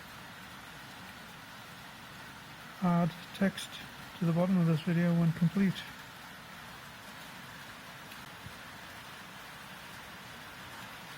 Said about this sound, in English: It is raining like hell outside